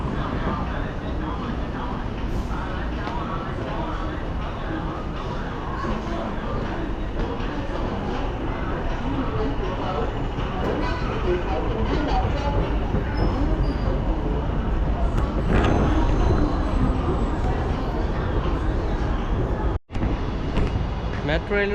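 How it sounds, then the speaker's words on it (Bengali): A metro train runs through Shenzhen with a steady, loud rumble and rolling rail noise throughout, plus a brief sharp dropout near the end; faint background voices may sit under it. "মোটামুটি মেট্রোতে ঢুকে যাবো এখন। এই হচ্ছে মেট্রো।"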